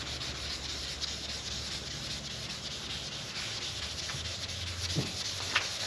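Sandpaper scrubs steadily over painted car bodywork in a parking lot, roughing up the paint before primer or top coat. The rasping is continuous and even and close by, with one sharper scrape near the end.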